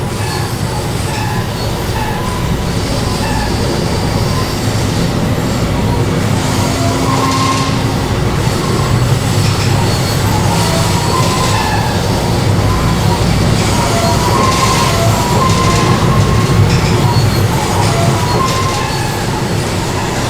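A train running in the Trainz railway video game, a steady loud rumble with rolling wheel clatter and occasional squeals, continuous for about twenty seconds with no talk.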